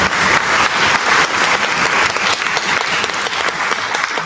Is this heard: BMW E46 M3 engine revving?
no